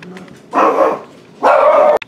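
A dog gives two loud, drawn-out barks close by, separated by a short pause, followed by a faint click.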